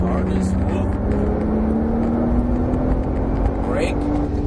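Porsche 997 Turbo under throttle, its engine drone rising steadily in pitch as it accelerates, loud and continuous over heavy wind and road noise, with a voice speaking over it.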